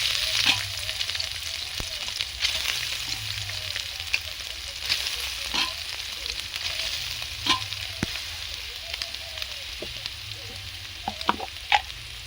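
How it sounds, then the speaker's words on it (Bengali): Boiled, squeezed soya chunks frying in oil, a steady crackling sizzle throughout with occasional sharp utensil clicks and stirring scrapes, close by and without talk. "তারপরে সয়াবিনগুলো ভেজে নিচ্ছি"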